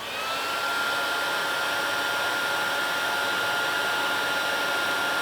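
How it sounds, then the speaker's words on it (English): A heat tool blows steadily from underneath a card while melting embossing, a constant whooshing roar of air that starts and holds at an even level throughout. "So a bit of noise coming up. Heat from underneath."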